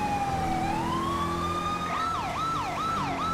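Police car siren from a 2018 Dodge Charger in the LSPDFR video game, starting as a steady rising wail and then switching to a fast repeating yelp, loud and continuous over busy traffic.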